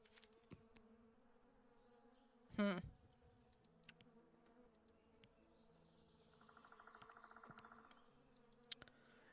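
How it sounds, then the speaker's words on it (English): Wild bees buzz around a hive beside a flower in the Fox Tail video game, a faint, steady insect drone that swells briefly near the end, with a few soft chirps and clicks scattered throughout. "Wild bees have built a hive right next to the plant, and were now working hard keeping me away from the cherished flower."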